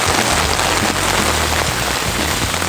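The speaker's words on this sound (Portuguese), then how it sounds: "essa chuva maravilhosa" Heavy rain pours steadily onto a lot where water is pooling, a loud, dense and continuous hiss of drops close by with no pause and no talking.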